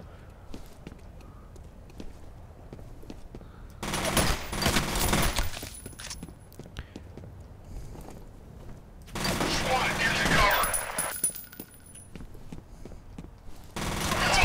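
Gunfire in the F.E.A.R. shooter game comes in two loud sustained bursts of rapid automatic fire, separated by quieter stretches of faint clatter and movement.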